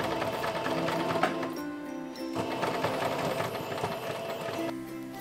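A sewing machine runs a long basting stitch on cosplay costume pieces, a steady close mechanical whir with a rhythmic motor hum and brief changes in pace.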